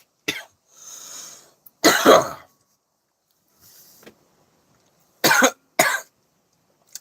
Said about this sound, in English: I just stopped coughing.